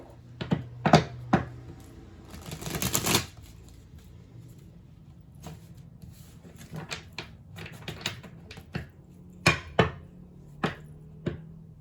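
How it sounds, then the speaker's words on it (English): Irregular crisp snaps and riffles of cards being shuffled and tapped, close by, with a longer rustling riffle early and scattered clicks after. "I just want to shuffle these back in really quick to the deck"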